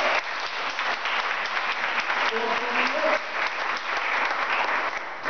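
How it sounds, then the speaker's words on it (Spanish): A Spanish-speaking church congregation in Charlotte, North Carolina claps for God during a service, with steady, full applause filling the sanctuary at moderate volume, some faint voices and a brief tone mixed in. "¿Le puedes regalar un aplauso a Dios por su vida?"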